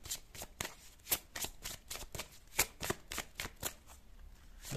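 A deck of tarot cards being shuffled, crisp rapid riffling slaps and flicks in an irregular rhythm, close and fairly quiet with no talk.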